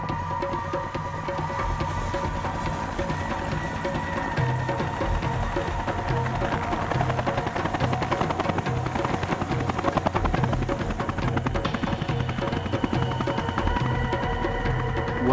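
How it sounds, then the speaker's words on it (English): Helicopter landing amid high mountain winds in Oman, a loud steady rotor throb and engine whine held close and continuous throughout, with no voices. "Due to the high winds around the mountains, landing a helicopter can be tricky."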